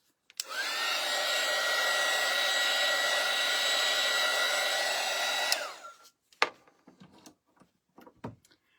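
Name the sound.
hair dryer drying a craft piece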